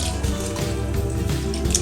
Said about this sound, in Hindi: ये तीसरी बार हम धो रहे हैं चावल को